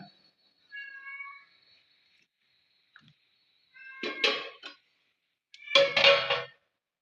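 A cat meows several times, short calls with pauses between them, then two louder, drawn-out meows near the end, close by with no talk.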